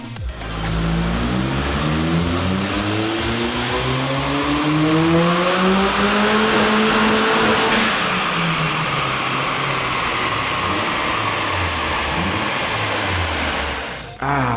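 A turbocharged 1.8 engine with a T2860 turbo on 0.9 bar of boost revs hard on a dyno, climbing steadily in pitch to the top end, then dropping away as it winds down, loud and close with no talk.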